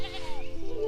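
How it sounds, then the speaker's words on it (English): A sheep in the video game Mariposa gives a short, wavering bleat, fairly faint and heard alone for under a second. "Oh wait, I need to pet the sheep more."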